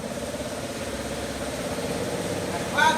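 A 2022 Mitsubishi Xpander recovered from flood damage idles steadily with an even, pulsing engine rumble close by, a brief louder burst near the end.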